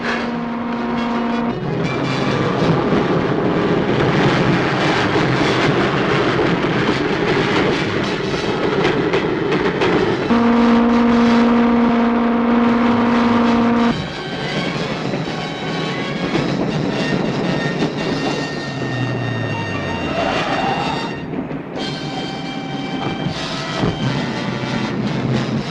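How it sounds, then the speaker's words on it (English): A train passes on the line to Offenburg, with a loud steady rumble, a sustained horn-like tone and a clattering, shifting roar that eases off near the end. "Simon, there's a train."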